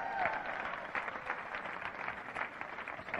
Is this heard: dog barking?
no